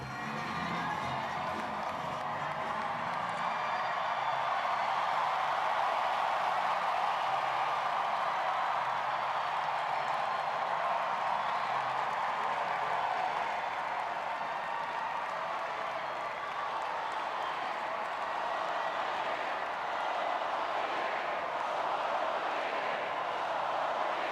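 A dense, sustained ovation from thousands of supporters at Barack Obama's Chicago headquarters: loud continuous applause mixed with cheering and whoops, steady and undiminished throughout.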